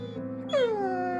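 A dog whimpers once, a single high, thin whine that slides downward and trails off, close and fairly quiet over a faint low background hum.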